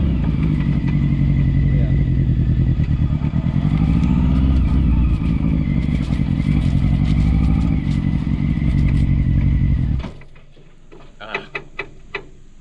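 Honda CBR 600-powered reverse trike engine on a test drive, a loud steady roar held for about ten seconds, then dropping away to quieter idle with a few short sharp crackles and pops.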